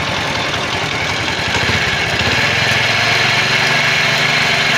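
Motorcycle engine running steadily and revved a little during a headlight fuse repair, a loud continuous mechanical drone with a rough low throb, close by and alone.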